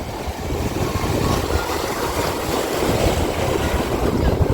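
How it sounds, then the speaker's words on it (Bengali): Sea waves washing in where a river meets the sea, a continuous broad rushing wash with wind buffeting the microphone, loud and close, no voices. "এখানে এসে ঢেউ লাগছে আর জলটা মানে এর উপরে উঠে যাচ্ছে"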